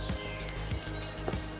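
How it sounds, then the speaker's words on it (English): A halved brioche bun toasts on garlic butter with a soft, steady sizzle, and a few light scrapes or taps sound close by. "Now for the brioche bun, we're gonna toast them."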